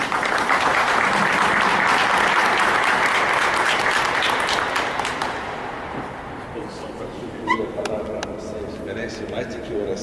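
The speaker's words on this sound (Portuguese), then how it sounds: "uma salva de palmas" Congregation applause for a newly ordained priest during a Lenten prayer meditation: loud, dense clapping sustained for about six seconds, then tapering off into quieter room noise with scattered claps.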